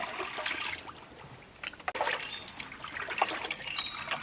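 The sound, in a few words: rinsing raw beef with water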